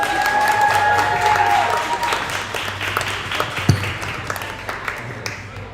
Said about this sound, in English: I think this is the most cheering that we've had here without having to ask anybody to show some love